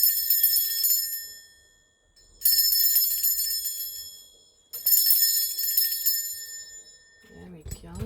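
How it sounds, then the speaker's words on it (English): A single bell struck three times to cleanse a space, each strike ringing bright and metallic, then shimmering down over a second or two before the next, loud and close, with a brief voice at the very end. "I am going to ring a bell."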